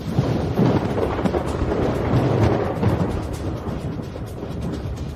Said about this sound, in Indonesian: Petir datang.